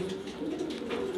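Pigeon giving a low, steady coo from a breeding pair in a small loft, one brief continuous call heard close and fairly quiet.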